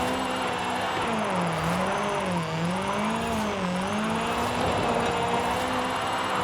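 A 1985 Toyota Sprinter Trueno with a drift tune in a racing game pulls hard in a tall fifth gear, the engine note rising and wavering steadily throughout with no voices over it.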